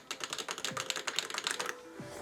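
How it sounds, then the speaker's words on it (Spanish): Clicky buttons on an Arturia KeyLab Essential MK3 MIDI keyboard controller being pressed in a quick run of about a dozen crisp, close plastic clicks, with a brief pause near the end. "Yo prefiero los botones que hacen clic, como los de este chiquitín"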